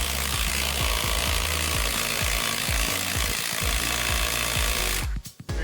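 A cordless Ryobi impact wrench on a 6 amp-hour battery hammers against a stuck bolt, a loud, fast rapid-fire rattle that runs for about five seconds before cutting off abruptly.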